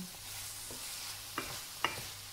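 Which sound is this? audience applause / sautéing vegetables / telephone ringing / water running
sautéing vegetables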